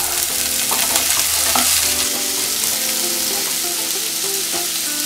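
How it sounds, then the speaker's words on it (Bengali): Vegetables including papaya stir-fry in a pan for sabudana khichuri, making a loud, dense, continuous sizzle, with stirring scrapes and clatter on top, close and unbroken for the whole stretch. "তিন থেকে চার মিনিট মতো এটাকে ভাজা ভাজা করে নিলাম"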